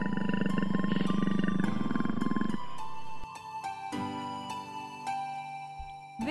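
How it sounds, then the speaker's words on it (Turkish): A tiger gives a long, loud, throaty roar lasting a few seconds, followed by quieter rumbling growls and low breathy sounds, all set against a steady background music tone. "Ve kaplanlar böyle ses çıkarırlar."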